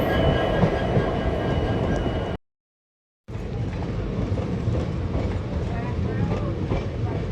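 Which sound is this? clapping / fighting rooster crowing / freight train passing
freight train passing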